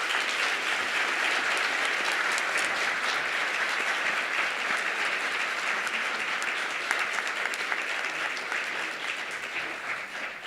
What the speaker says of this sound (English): let us hear a round of applause for all the high school teachers here with us this evening